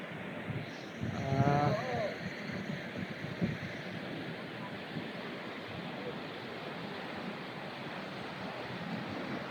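Sea waves wash steadily onto a shore under wind and broadband surf noise, with a brief burst of nearby voices early on before the steady ocean roar carries on alone.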